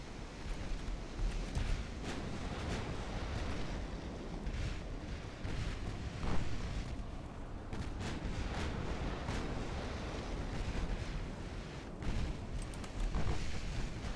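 Naval artillery from warships in the game Ultimate Admiral Dreadnoughts booms in a dense, continuous barrage of overlapping shots, loud and rumbling, with sharper cracks every second or so and no voices.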